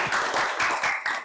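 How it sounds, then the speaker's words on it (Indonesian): A classroom of students applauding a classmate during an AI lesson, a short burst of dense group clapping at moderate level with no talk over it. "Tepuk tangan buat Arin."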